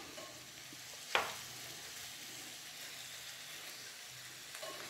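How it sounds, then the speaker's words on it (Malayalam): Broiler chicken pieces fry uncovered in a pan, a soft steady sizzle with one sharp brief crackle burst as a piece is turned, then the quiet frying continues. "മീനൊക്കെ വറുക്കുന്ന പോലെ തിരിച്ചും മറിച്ചും വെച്ച് വറുത്തെടുക്കാം."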